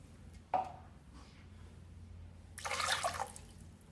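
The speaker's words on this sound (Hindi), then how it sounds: "इसमें पानी शामिल करेंगे 2 कप।" Two cups of water pour into a cooking pot holding half a kilo of boneless beef, a short splash followed by a louder, sustained gush lasting under a second.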